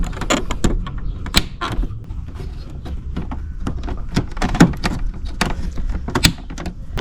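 Small plastic clips are pressed back into place on a Honda Vision NSC110 scooter panel, giving scattered close clicks, snaps and creaks of plastic with no talk.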